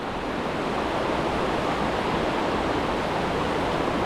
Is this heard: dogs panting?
no